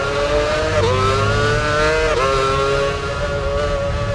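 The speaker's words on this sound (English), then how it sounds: "Accelerating up, then braking for the left-right turns." An F1 race car in an F1 Championship Edition racing video game runs close and loud, its high whining engine rising and dipping in pitch as it accelerates and brakes through left-right turns, a steady roar with no voices.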